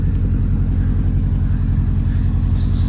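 A Subaru STI hawkeye warms up at idle, giving off a loud, close, steady low rumble with an even pulsing throb and no breaks.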